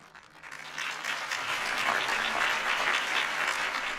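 Crowd applause after a campaign speech in Batman: The Telltale Series, swelling from quiet into a full, steady roar of clapping and cheering that holds to the end.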